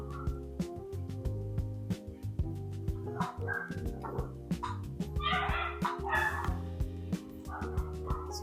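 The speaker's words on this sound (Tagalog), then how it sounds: "Tapos kumakahol yung aso ko sa likod." A dog barks and yips in the background during a home Hot Wheels muffler build, short repeated barks scattered across a steady low hum, moderately distant and not very loud.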